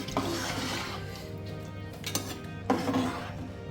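A spoon stirs vegetable pulao in a pot, with scraping and clinking strokes against the metal, a few sharper scrapes standing out over a low continuous background.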